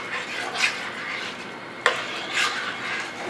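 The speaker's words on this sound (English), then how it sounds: "we're going to add our 2 cups of corn, our 2 cups of peas. Alright, we'll stir that in." Corn and peas being stirred into a pot of shepherd's pie soup, a spoon scraping and swishing through the thick mixture with a couple of clinks against the pot, close and steady.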